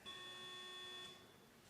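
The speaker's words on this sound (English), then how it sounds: "Shall we hear the buzzer from Preseg?" A quiz-competition answer buzzer sounds a single steady electronic tone for about a second, fairly faint and alone, before cutting off.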